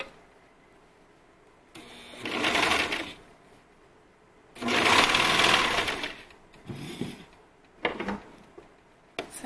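A serger sews elastic onto a swimsuit edge with its knife turned off, running in several bursts of fast, whirring stitching separated by quiet pauses, loud and close.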